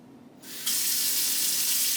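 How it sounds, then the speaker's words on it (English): A kitchen tap is turned on and water runs steadily into a sink. It begins with a short building gush, then settles into a loud, continuous close splash with no talking. "I gotta turn on the water for this one"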